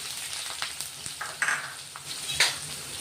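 Finely chopped onion hits hot oil with mustard seeds and cumin. It sizzles loudly up close, with scattered pops and crackles and a couple of sharper bursts as it is stirred.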